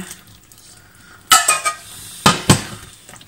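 Stock is ladled into a cooking shrimp and zucchini risotto, with a quiet pan background and then a few sharp clinks and splashy stirring bursts in two short clusters.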